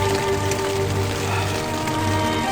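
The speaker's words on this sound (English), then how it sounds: "It's raining." Steady winter rain falls on a surface during a rainstorm in the Smoky Mountains on a backpacking trip, a continuous dense patter with a low hum underneath and no talking.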